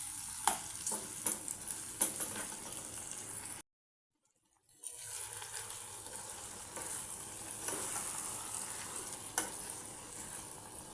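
Ridge gourd and tomato masala curry stirred in a pan on low heat, soft scraping stirs and a faint sizzle with a brief silent gap midway, quiet and close.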